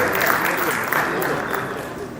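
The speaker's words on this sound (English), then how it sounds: "Now you can clap for it" Audience applause at a Rotary seminar hall, steady dense clapping held at an even level for a couple of seconds, with a murmur of voices underneath.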